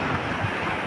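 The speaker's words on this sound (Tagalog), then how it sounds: "Kita nyo naman yan guys, ang lalaki ng alon." Broad, roaring wash of large crashing waves mixed with strong wind buffeting the microphone, loud and continuous with no voices.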